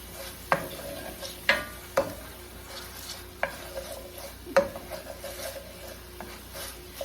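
A spoon stirs garlic and onions through hot oil in a pan for marinara sauce, sharp scraping knocks against the pan every second or so over a soft steady sizzle, close up, with no talking.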